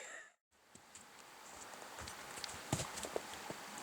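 Pack horses walk along a trail, their hooves making faint, irregular clip-clops. The clopping starts after a brief dropout, sits over soft outdoor noise, and grows a little more distinct toward the end.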